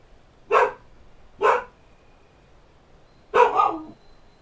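A dog barks three separate times at close range, two short single barks followed by a longer double bark, with quiet pauses in between and no talk.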